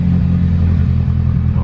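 A rebuilt 1991 Mitsubishi Eclipse GSX engine idling cold with a misfire, heard up close as a loud, steady low rumble with slight unevenness.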